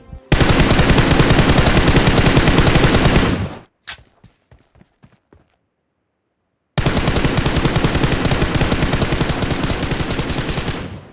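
Sustained automatic gunfire in the Free Fire video game, broken by a short gap of sparse, clicking shots as ammo runs low, before a second long burst of rapid fire starts up.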